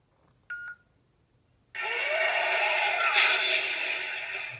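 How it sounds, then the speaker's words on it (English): A Rancor Saber sound font on a custom lightsaber, with an amber blade, gives a brief electronic chirp, then ignites into a loud, steady buzzing hum with a few crackling flickers. "It's the Rancor Saber sound font."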